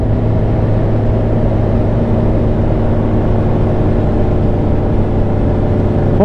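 A Honda CB1000R motorcycle engine runs steadily and loud throughout, a continuous droning roar with a constant rumbling texture and no speech.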